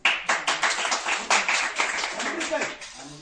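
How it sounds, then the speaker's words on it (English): A class claps together during an anatomy lesson on hand muscles, a burst of quick overlapping claps that thins out into scattered claps, with voices mixed in. "Clap for it, everybody."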